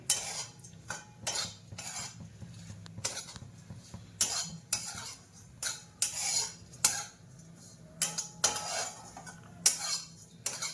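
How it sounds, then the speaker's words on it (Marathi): Grated coconut is dry-roasted in a pan for Maharashtrian kala masala, and a metal spatula scrapes and clinks against the pan in an irregular rhythm. Faint crackling runs underneath, close up and with no talking. "याच्यात टाकूया खोबरं. खोबऱ्याला चांगलं भाजून घ्यायचंय."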